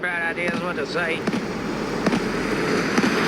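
Explosions and bursts of sharp bangs from the video game GTA 3 crackle through the clip, mixed with game effects while a player talks over them.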